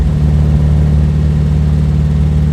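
A Porsche 550 Spyder replica engine chugs along at low revs in fourth gear, a loud, steady, throbbing drone with a strong low harmonic hum and no talking.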